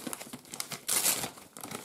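Wrapping paper on a birthday gift package is opened carefully, crinkling and crumpling in short close bursts, with a louder rustle in the middle.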